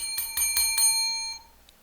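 Four quick ringing strikes of a timer bell mark speaking time, each with bright, sustained metallic overtones, followed by a softer fifth ding as the tones fade out.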